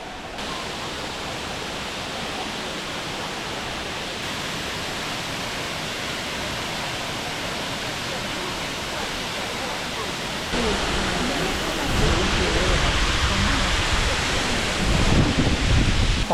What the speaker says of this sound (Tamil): தண்ணி நல்லா பிரைட்டாக பாலருவி அப்படிங்கிற நேமுக்கு ஏற்ற மாதிரி நல்ல வெள்ளையும் கொட்டுது